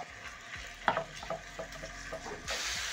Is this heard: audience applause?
no